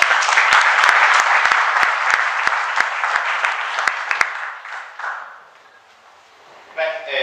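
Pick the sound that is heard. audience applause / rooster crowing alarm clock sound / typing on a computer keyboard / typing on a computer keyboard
audience applause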